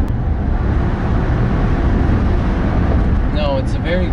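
A 2011 BMW Alpina B7 in comfort mode gives a steady, gradual low engine hum under road noise, close and continuous, with a faint brief tonal chirp near the end.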